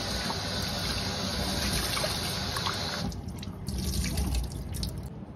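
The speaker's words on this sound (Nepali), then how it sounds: "बोलमा राखेर यसलाई धुन्छु है त। चिसो पानीले धुने," Shrimp rinsed in a bowl under cold running water produce a steady tap stream with splashing and dripping, shifting to lighter trickles and hand sloshing midway.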